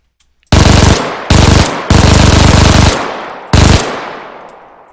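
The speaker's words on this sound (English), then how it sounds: "the MG42 does work" An MG42 machine gun fires in Arma 3 with the IFA3 WW2 mod. Four loud, close bursts of rapid fire, each cut off sharply and trailing a long fading echo.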